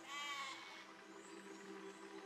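Sheep in the physics building game Besiege bleating once, a short nasal cry near the start, followed by low background game noise.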